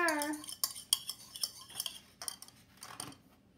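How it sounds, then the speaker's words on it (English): Cake batter of flour, sugar, milk, eggs, butter and lemon juice stirred in a bowl, a quiet series of close clinks and scrapes from a utensil against the bowl at an uneven pace. "He mixed flour, sugar, milk, eggs, butter, and lemon juice in a bowl. Stir, stir, whir, whir."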